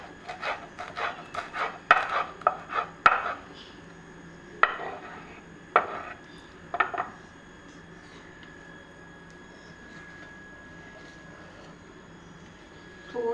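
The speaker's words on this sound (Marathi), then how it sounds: "हा आमच्या घरातला पालक आहे, तर तो मी आता चिरून घेते." A knife chops home-grown spinach on a board, a quick run of close, crisp taps in the first few seconds, then a few isolated cuts, followed by a quiet stretch with a faint steady hum.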